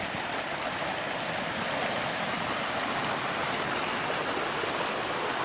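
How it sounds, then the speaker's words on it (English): A creek swollen with spring snowmelt roars steadily where three creeks join, a dense, constant broadband rush of fast water heard up close with no voices. "And the creek is really roaring because all of that snow is melting up there."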